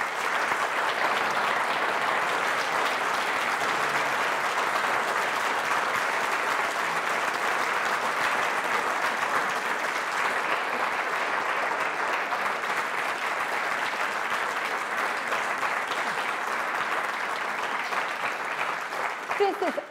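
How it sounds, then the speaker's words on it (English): An audience at an evening talk gives a long, steady round of applause, dense even clapping at constant volume filling the entire stretch before fading at the very end. "Please give him a round of applause."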